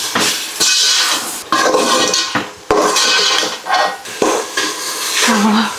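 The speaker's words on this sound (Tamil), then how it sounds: "இப்போ இதை போட்டு நல்லா வதக்கிப்போம்." Biryani masala and red chilli powder sautéed in a pan, loud close scraping and clanking of a utensil against the metal pan in uneven bursts over a low sizzle, with no talk.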